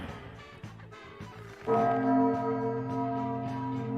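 A bell-like chime sound effect played on a live stream rings out after a short stretch of quieter tones, its sustained tones lingering and slowly fading.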